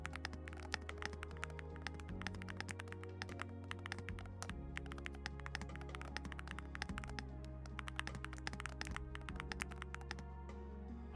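A Tryhard keyboard with homemade magnetic switches is typed on in a quick, steady patter of light keystrokes over low background music, with no talking.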